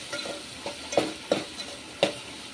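Spices, turmeric and salt are stirred into biryani masala in a pan for a dhaba-style dum biryani, giving a few distinct scrapes and clinks over a faint sizzle, with no voices.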